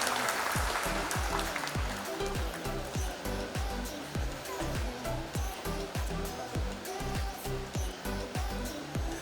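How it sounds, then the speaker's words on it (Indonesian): A crowd at an evening inauguration event in Yogyakarta applauds with a broad, hissing wash of clapping over a steady, regular low thumping beat, heard at a fairly faint, distant level. "Boleh kita berikan aplaus dan tepuk tangan yang meriah untuk momen kesempatan malam hari ini"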